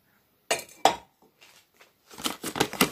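Cutlery and kitchen utensils clinking together, two sharp metallic clinks followed by a few faint taps and then a busier run of rattling jangles, close and alone without talk.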